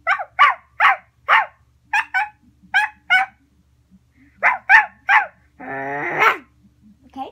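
A person imitating a dog barking, giving a quick string of about a dozen sharp, close woofs in uneven bursts, followed by a longer growling, whining yelp.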